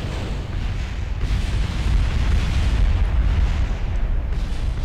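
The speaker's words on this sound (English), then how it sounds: "All they do is explode." A rocket blows up in Kerbal Space Program as a loud, sustained, low rumbling roar that fills the whole stretch without pause.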